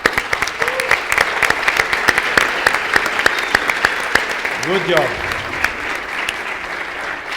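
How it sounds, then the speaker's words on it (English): An audience applauds a translator at a bilingual talk, with steady broadband clapping throughout and a voice speaking briefly over it. "I think she deserves an applause"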